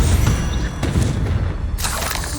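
A Confringo fire spell bursts in Hogwarts Legacy combat, a loud booming blast with shattering debris that fills the clip, then a second sharp burst near the end.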